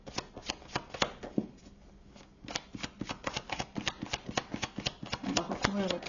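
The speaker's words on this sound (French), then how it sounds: "on va recouvrir les cartes" Tarot cards are laid out and shuffled close by, making a long run of quick, crisp slaps and flicks with a brief lull partway through, all at a soft level.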